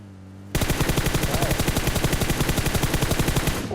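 Rapid bursts of automatic gunfire in PUBG Mobile erupt after a brief quiet start, loud and continuous for about three seconds with a steady rattling rhythm.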